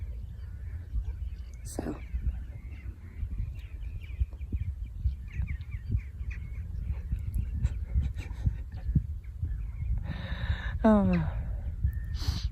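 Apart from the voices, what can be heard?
birds calling outdoors by the sea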